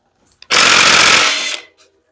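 An electric drill runs on the engine of a 1957 Chevy Bel Air during engine prep. It gives one loud, close, harsh whir lasting about a second and then cuts off abruptly.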